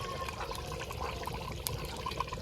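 Rose water poured into mashed potatoes makes a steady, soft liquid trickle that runs evenly throughout, with no voices.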